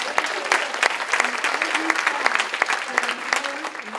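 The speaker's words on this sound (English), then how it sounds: "That deserves a round of applause." Audience applause at a community recognition event honoring a volunteer, steady dense clapping throughout with no speech over it.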